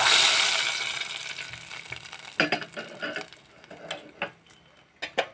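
A loud burst of sizzling hits at the start as hot tempering is poured into a fenugreek-leaf curry, gradually dying down, followed by scraping stirs and light clinks of a utensil against a pot.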